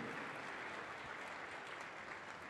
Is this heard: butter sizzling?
no